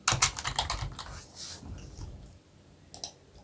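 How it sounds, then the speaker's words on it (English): Typing on a computer keyboard, a dense run of close keystrokes at first that thins into scattered clicks, with a last tap near the end. "I'm going to type in Mark's video."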